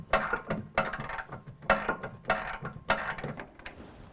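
A ratchet clicks in short repeated bursts, close and clear, as a 10mm bolt holding a car headlight is loosened.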